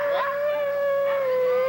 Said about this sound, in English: That's when these hills come alive with the sound of huskies.